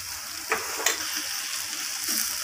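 Garlic and ginger paste sizzles with mixed vegetables and a fish head in a pan, a steady close frying hiss punctuated by two quick scraping stirs of a spoon.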